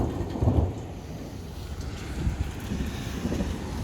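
Thunder from a thunderstorm rolls low and distant beneath gusty wind and light rain, with a deeper rumble near the start and softer grumbles after.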